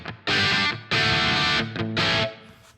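Loud distorted electric guitar chords through a British crunch amp simulator plugin, crunchy and gritty, played in a few sustained strums with brief gaps between them.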